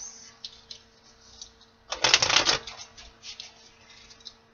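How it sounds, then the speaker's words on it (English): A deck of tarot cards shuffled close by, one dense papery riffle lasting under a second, loud against a quiet room with faint handling rustles before and after. "Two more shuffles, my guides."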